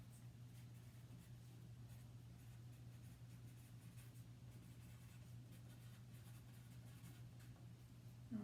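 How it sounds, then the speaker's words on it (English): A pen writes a short message inside a paper craft card, making a faint, continuous scratching under a low steady hum. No one speaks. "So I'm going to write my message."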